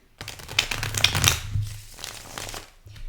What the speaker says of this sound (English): Let me just do a shuffle here.